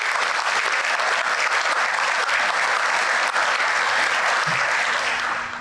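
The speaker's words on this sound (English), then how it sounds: "let's give a round of applause for our cadets" Sustained, dense applause from a large audience at a law enforcement cadet graduation ceremony, loud and steady throughout before tapering slightly at the end.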